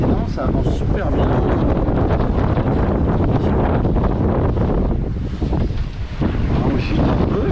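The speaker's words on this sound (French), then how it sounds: "Et voilà les accélérations de vent." Strong wind gusts buffet a sailboat at sea on a Caribbean passage between Guadeloupe, Antigua and Barbuda, a loud, continuous roar of wind over the microphone mixed with wash of water throughout.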